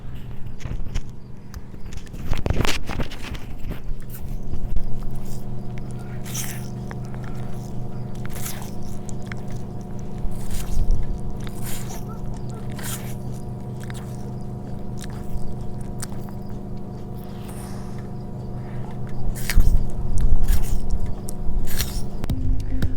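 A tortoise munches food with a microphone held close, soft irregular crunching and squishy bites repeating over a low steady background hum, with no talking.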